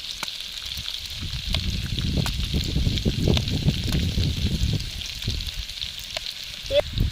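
Strands of semolina sitabhog dough, grated straight into moderately hot oil, fry with a soft, steady crackle and bursts of bubbling that rise and fall close by, with no talking.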